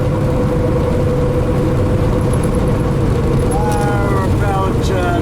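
A truck engine with a 13-speed transmission hums heavily and steadily through a downshift, a loud low drone with a tone that drifts slightly. Faint cab sounds rise near the end and someone talks over it.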